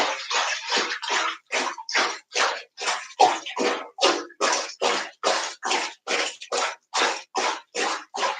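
Bathtub water is churned to make bubbles, producing about twenty rhythmic, evenly spaced sloshing bursts, close and fairly loud with brief gaps between each.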